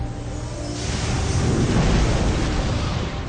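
An industrial explosion at a faulty valve: a loud, broad rushing roar that swells and sustains like a blast with continuing release, dense and noisy from start to end.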